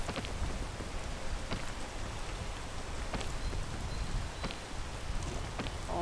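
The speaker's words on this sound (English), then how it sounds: "Hate the rain so much. The rain is horrible." Steady rain patters continuously in the video game PEAK, a dense hiss of drops with a few sharper clicks scattered throughout, heard alone.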